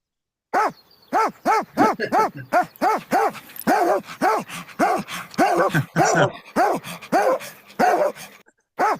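A pack of dogs barks excitedly in a played-back recording, giving quick repeated barks and yips in a fast, uneven rhythm that runs almost without a break, close and fairly loud.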